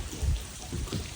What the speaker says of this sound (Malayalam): ഫുള്ള് മഴയാണ് കേട്ടോ